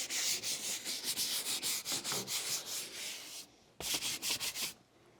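A pad scrubs a car's surface during detailing in quick back-and-forth strokes, close and rhythmic, pausing briefly before another burst of rubbing.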